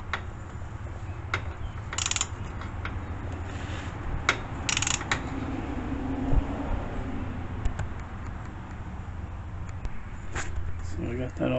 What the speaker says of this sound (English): So to torque down the fill plug, it says